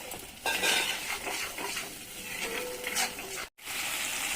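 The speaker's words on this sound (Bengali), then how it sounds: "অল্প 10 মিনিট মশলাটা অল্প ভাজবো" Masala spices frying and being stirred in a pan for a tilapia fish dish, with a soft steady sizzle under repeated scraping and clinking of a utensil against the metal, close and fairly quiet.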